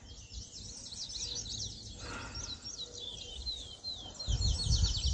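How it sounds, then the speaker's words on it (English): Several birds sing and chirp continuously at a moderate distance over a low rumble of wind, on an overcast hike up Mt. Tom in Sibley State Park, Minnesota. "Lots of birds."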